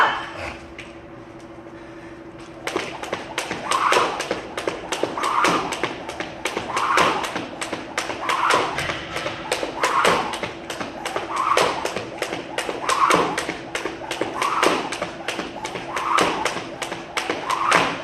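Jump rope double unders tapping the floor during a workout, a steady series of light taps and soft thuds repeating at an even pace, close by, after a brief quieter start.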